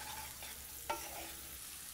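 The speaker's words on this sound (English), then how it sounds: "When they start sizzling, it's time to add the onions." Diced onions and cumin seeds frying in hot oil for a chick pea curry, giving a steady broad hiss of sizzling with a single brief clack midway, moderate and alone without talk.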